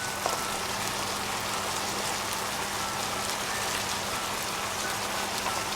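Carrots sautéing in a pot for Filipino sopas chicken noodle soup, a steady, soft, dense crackling sizzle throughout with no talking.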